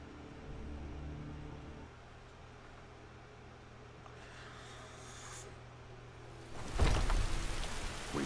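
Steady rain falling in Skyrim, a soft even hiss filling the background, with a low hum at the start and a louder burst of noise near the end; no talk.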